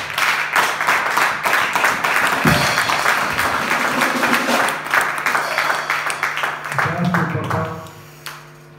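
Church congregation applauding, dense sustained clapping from many hands for several seconds, fading out near the end, with voices mixed into the crowd noise.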